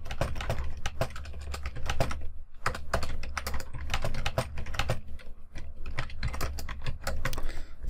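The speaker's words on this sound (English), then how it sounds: "And now if I type" Fingers type on a computer keyboard, giving a fast, steady run of close, crisp key clicks with brief pauses between short bursts.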